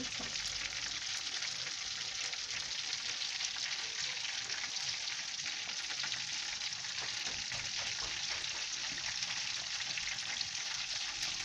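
Steady, crackling sizzle of manti dough frying in hot oil, continuous and close, with no voices.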